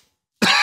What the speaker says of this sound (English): Just a cough in our faces.